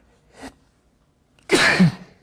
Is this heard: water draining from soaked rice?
no